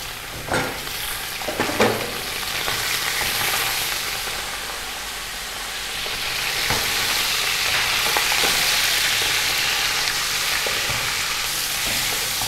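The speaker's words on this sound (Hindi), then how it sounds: "गोश्त को हमने ऑयल में फ्राई कर लिया है। तकरीबन हमने इसको 1 मिनट के लिए मीडियम फ्लेम पर फ्राई किया है।" Beef pieces frying in oil over a medium flame for nihari, with a steady crackling sizzle that swells in the middle and is broken by occasional stirring knocks, close and continuous.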